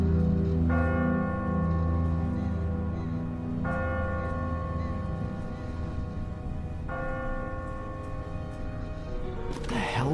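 A church bell tolls in a bell tower with three evenly spaced strikes about three seconds apart, each blooming into a long resonant hum over a dense low rumble, followed by a brief sharp noise at the end.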